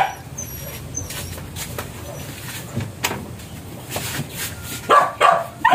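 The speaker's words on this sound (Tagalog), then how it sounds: "ang ingay ng mga aso." Dogs barking in a Filipino home, a few sharp barks and yelps scattered through the clip, loudest near the end, over a low background with faint voices.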